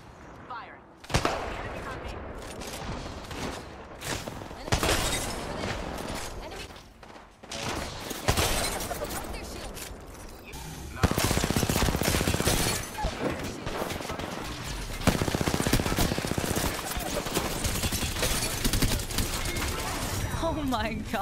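Rapid bursts of video game gunfire crackle through a busy stretch of squad combat, loud and dense, with players talking over the shooting throughout.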